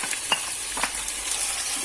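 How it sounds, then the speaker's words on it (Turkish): Meat for Uzbek pilaf sizzles loudly as it is browned in hot oil, a constant crackling hiss with a few sharp spits and pops, close up. "Etimle birlikte şimdi kavurmaya başlıyorum."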